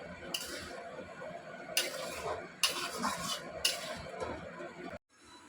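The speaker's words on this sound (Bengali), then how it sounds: "মুগ ডালটা আমার আগেই ভাজা ছিল, সেই মুগ ডালটা দিয়ে দিলাম।" Fried mung dal stirred into a pan with potatoes for an aloo potol dish, several scraping, clattering strokes of a spoon against the metal pan over a low sizzle, then a sudden stop.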